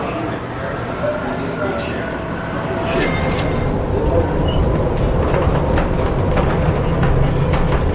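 A Las Vegas transit train rumbles steadily with rattling, clattering wheels and a constant low roar, close and fairly loud throughout.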